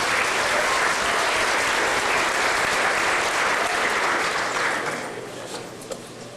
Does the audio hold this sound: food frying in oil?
no